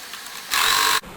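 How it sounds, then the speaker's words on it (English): A sewing machine stitches the shoulder seam of a princess-cut blouse in one brief, close burst of whirring, with quiet room tone before and after. "stitch with the machine. Now we are stitching the shoulder of the front and back together."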